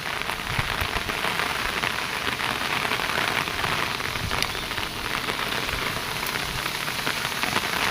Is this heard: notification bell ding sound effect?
no